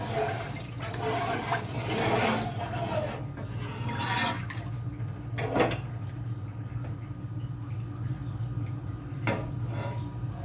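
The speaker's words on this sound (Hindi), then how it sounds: "ये जो मसाला हमारा भुन चुका था अच्छे से, उसमें जो है वो हमने ये लस्सी हमारी ऐड कर दी है।" Lassi poured into fried masala in a cooking pot for kadhi pakora, a soft liquid gurgle and splash with a few clinks of utensils against the pot over a steady low hum, moderately quiet and close.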